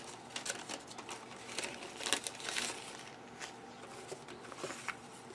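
An old paper envelope is handled up close, giving soft crinkles and rustles with a few sharper paper crackles, fairly faint, and no talk over it.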